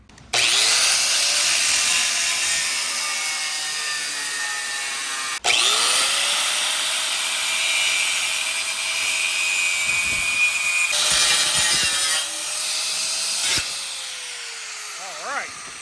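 An angle grinder with a cutting wheel slices into a flatbed trailer's deck, a loud high-pitched whine holding steady through long cuts, briefly stopping and restarting, then winding down near the end; no talk over it.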